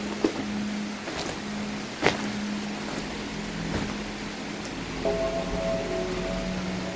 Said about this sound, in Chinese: 外面下起倾盆大雨